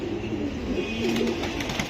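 Bezi pigeons cooing in a low, steady, continuous murmur at a market stall, fairly close and even in loudness with a constant background hum, with no voices.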